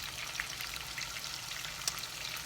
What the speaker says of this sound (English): when the oil is hot, you will put the shrimp